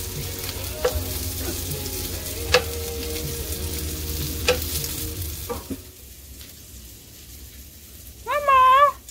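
Hash browns, bacon and Mennonite sausage frying at a campground, a continuous sizzle with occasional sharp clinks that drops away midway, followed by a short, wavering animal-like cry near the end.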